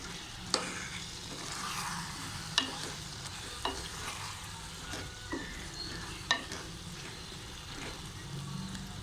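A spoon stirs potatoes in a pan for aloo baingan salan over a soft background sizzle, with a handful of distinct scrapes and clinks spaced a second or two apart, fairly quiet.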